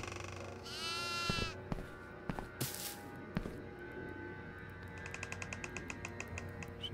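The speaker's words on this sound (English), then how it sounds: "I heard a goat." A goat bleats in the horror video game Devour, a loud wavering cry near the start, followed by sharp thuds, clicks and a burst of noise, then rapid mechanical clattering over a low droning game ambience.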